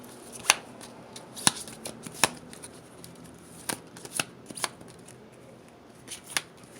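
Cards for a reading are shuffled up close, a series of sharp, irregular riffling snaps and flicks over a quiet room, with no talking.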